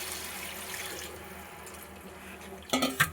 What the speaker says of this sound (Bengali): এখন আমি জল অ্যাড করছি।